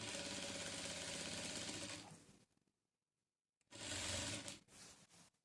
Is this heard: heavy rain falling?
no